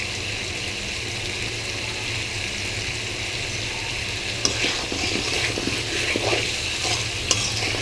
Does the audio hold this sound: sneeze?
no